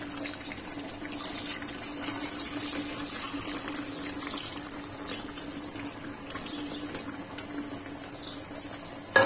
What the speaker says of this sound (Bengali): এখন আমি মুরগির মধ্যে পানি দিয়ে দিচ্ছি।